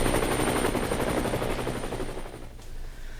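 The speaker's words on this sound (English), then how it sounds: "I think I hear his chopper." A helicopter in a Bethesda video game passes close and loud with a dense, pulsing rotor chop, then fades as it moves away near the end.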